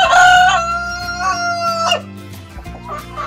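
A Brahma rooster crows a loud, close cock-a-doodle-doo with repeated harmonic bursts, heard over a steady low background hum.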